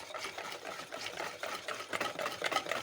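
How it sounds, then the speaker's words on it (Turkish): A hand whisk beats egg and baking powder into batter for a semolina dessert, giving quick, rhythmic scraping and sloshing strokes at close range, fairly soft, with no talking. "Güzelce çırpıcıyla karıştırıyoruz."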